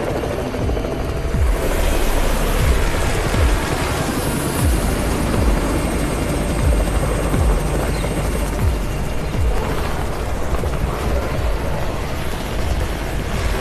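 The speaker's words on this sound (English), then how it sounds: "It's the Raven's chopper!" A military chopper in the zombie game Undawn approaches with a loud, steady rotor thump and engine whine, a continuous close drone that fills the whole stretch with no talking.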